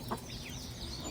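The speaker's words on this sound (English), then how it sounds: "So I got chicks of about 3 different ages and adult hens of another 2 or 3 years of age difference." Farmyard chickens, adult hens together with chicks of several ages, cluck and peep faintly and continuously at a distance.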